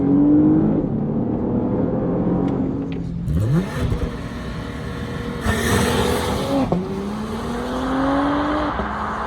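A 2023 Porsche Panamera 4 E-Hybrid accelerates at full throttle, its engine loud and close, rising in pitch through several gear changes with short dips between each climb.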